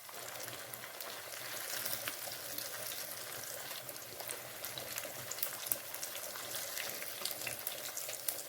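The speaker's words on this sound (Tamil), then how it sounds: "மீன் நல்லா ஃப்ரை பண்ணியாச்சுங்க." Marinated fish fries in hot oil, a continuous hissing sizzle with fine crackles, low in level but steady and close throughout with no voices.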